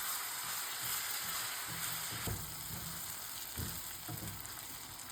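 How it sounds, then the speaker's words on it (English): Raisins cook in hot oil in a pan with a soft, continuous sizzle, broken by a few brief clinks and scrapes of a utensil, fairly faint and without any talk. "Then add your raisins. Let them cook just a couple of minutes."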